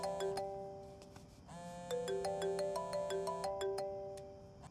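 A mobile phone ringtone plays a bright, repeating electronic melody of sustained chiming notes. It sounds alone and fairly quiet, with a short pause before the tune starts again.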